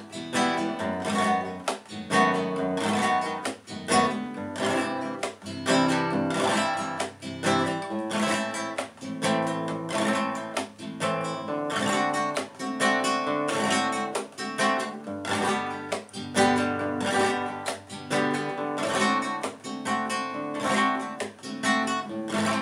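Nylon-string rumba guitar played with rasgueado strumming and golpe taps, moving through a chord progression in a steady four-beat rhythm, loud and close, dense percussive strokes continuing without talk.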